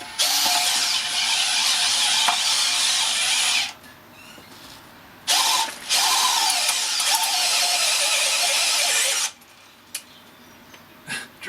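Makita 40V earth auger drilling into clay whines loudly in two long bursts, separated by brief pauses with faint rustling, then stops before a few light knocks.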